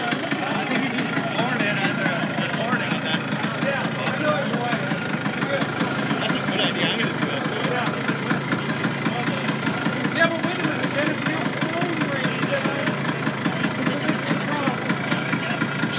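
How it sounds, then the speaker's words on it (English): Vintage two-stroke scooters idle together at a rally, a steady buzzing putter with a fast, even pulse, continuous and moderately loud beneath people talking. "the trick is to ride way behind or ride in front of these two-stroke scooters, because otherwise it's like mowing a million lawns"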